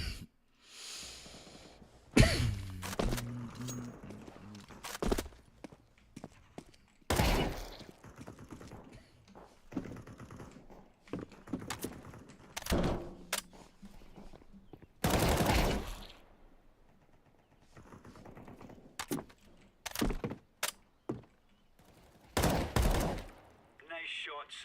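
Rapid bursts of video game gunfire crack out in clusters between quieter stretches, some volleys loud and sustained, with a voice talking in the gaps.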